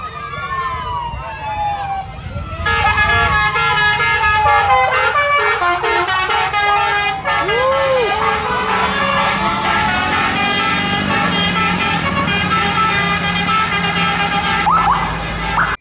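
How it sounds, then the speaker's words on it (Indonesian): The Persib Bandung team bus passes on the road, sounding a loud, sustained multi-tone horn in long melodic blasts over engine noise, with a voice briefly audible before the honking starts. "wah kali ini ada bus Persib Bandung teman-teman"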